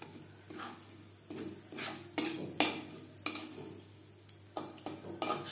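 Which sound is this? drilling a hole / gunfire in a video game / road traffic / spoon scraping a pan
spoon scraping a pan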